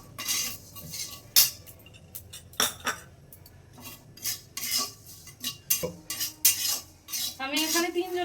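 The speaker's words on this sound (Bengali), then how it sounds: "এবার শুকনো কড়াইয়ের মধ্যে কালো জিরে দিয়ে দিলাম।" Black cumin seeds dry-roast in a hot wok, stirred with a metal utensil that gives irregular scraping clatters and clinks against the pan, loud and close, with quiet pauses between strokes.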